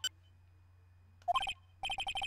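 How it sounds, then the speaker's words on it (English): A cell phone ringtone in the Ace Attorney video game, a bright electronic melody of quick repeated beeping tones in two clear bursts over a faint low hum, loud and close. "And I bet it was this ringtone that caused it."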